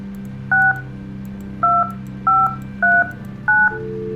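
A telephone keypad in the game The Guest beeps five distinct dual-tone key presses at an uneven pace, each a short clear electronic tone over a low steady hum, with no one speaking.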